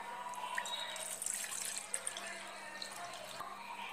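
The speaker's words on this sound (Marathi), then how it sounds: "आता आपण एका बाउलमध्ये अर्धा लिटर पाणी घेणार आहोत" Half a litre of water is poured into a bowl in a home kitchen, a quiet, steady trickle and splash with a few small drips, close but faint and with no talking.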